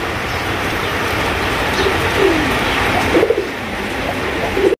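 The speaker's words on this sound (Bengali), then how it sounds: "একটা কালদম কবুতর, দেখতে পাচ্ছেন মাশাআল্লাহ খুবই সুন্দর" Kaldom pigeons cooing at a pigeon seller's stall, a few soft, rolling coos rising over a steady, noisy background.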